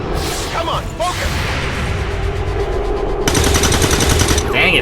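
Gunshots ring out in the game XCOM 2: War of the Chosen, a loud rapid automatic burst clattering over the later part, with a voice talking and game effects underneath.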